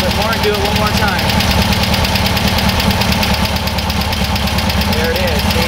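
Air-cooled German engine fitted with dual carburetors idling in a garage, a loud, steady, close-up rumbling chug with a fast even pulse and a faint knocking texture, with someone talking over it.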